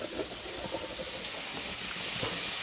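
Chicken pasta ingredients sizzle and fry in a pan, a steady, close hiss with faint crackling that stays even throughout.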